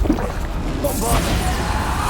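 A Bombarda explosion spell cast in the Hogwarts Legacy game: an opening thump, then a bright crashing burst of magical blast with a sweeping whoosh and lingering rumble, all fairly loud.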